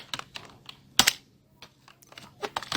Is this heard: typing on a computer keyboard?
yes